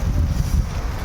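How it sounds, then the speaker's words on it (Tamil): Strong wind blows outdoors as rain arrives, buffeting the microphone in a loud, continuous roaring rush with no talk. "அப்படியே பாருங்கள் காற்று அப்படியே ஃபுல் அடிக்குது."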